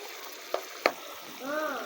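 Tomatoes cooking in a pan for a beef trotters (paya) curry, with a low steady sizzle, two sharp utensil clinks near the middle and a brief tonal scrape or whine toward the end.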